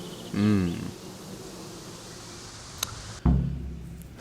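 Bees swarm around beehives in the video game Kingdom Come: Deliverance, a short buzzing drone that swells and fades near the start, followed later by a louder low hum.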